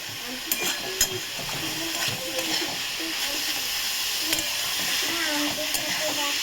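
Radish greens with coconut fry in a pan on a lit gas stove, giving off a steady sizzle and hiss. A few sharp clinks of stirring cut through, and a person talks over the cooking.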